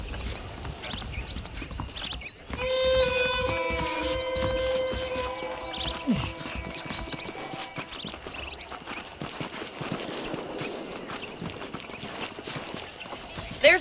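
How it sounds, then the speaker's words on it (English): Horses' hooves clip-clop at a steady walking rhythm in the Red Dead Redemption video game, moderately close, with background music tones and ambient noise layered over the hoofbeats. "The horses are saddled up over here."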